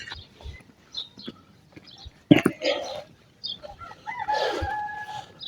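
Roosters and other birds call outdoors in a neighbourhood near a market in Zambia, with intermittent crows and chirps of varying loudness, some near and some farther off, over light background activity.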